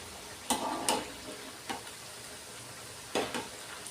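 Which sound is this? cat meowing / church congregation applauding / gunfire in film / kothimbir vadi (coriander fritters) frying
kothimbir vadi (coriander fritters) frying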